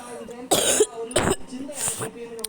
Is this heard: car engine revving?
no